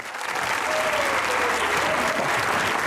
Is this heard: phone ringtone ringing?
no